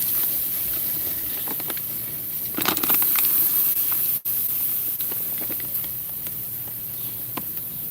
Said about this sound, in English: Looks like I got another grease fire.